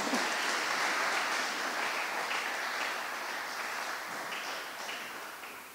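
A room full of people claps at a school awards ceremony for a fair-trade class, an even wash of applause that slowly tapers in level over several seconds.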